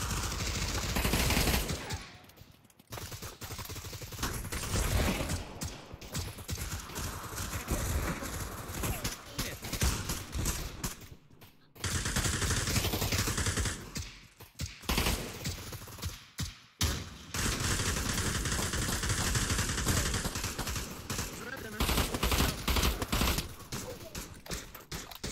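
Rapid bursts of gunfire from a WW2-era VR shooter match set in Tunisia, with dense volleys and machine-gun rattles running almost throughout and a few brief gaps, mixed with voices.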